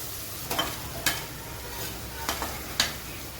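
Capsicum fries in a hot pan with onions for masala pav, giving a constant sizzle broken by a few sharp scrapes and clacks as a spoon stirs it.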